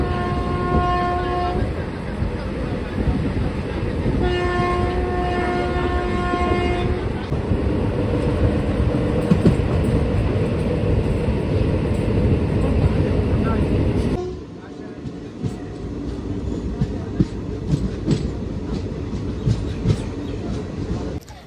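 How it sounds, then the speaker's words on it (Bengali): Kaviguru Express rolls into Mandar Hill station, with loud rumbling and rail clatter, repeated horn blasts early on, then a quieter stretch of wheel clicks and carriage noise as it slows; voices are heard over it. "আমাদের ট্রেন এখন এসে পৌঁছেছে মন্দার হিল স্টেশন"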